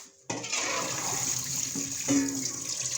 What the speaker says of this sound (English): just draining them out in the sieve there, and they've all come out